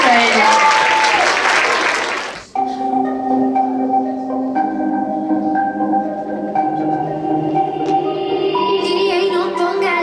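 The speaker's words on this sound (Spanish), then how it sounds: "Un fuerte aplauso para ellos." At a Got Talent show, an audience claps loudly for a group of children about to dance. The applause cuts off after about two and a half seconds, and a song begins.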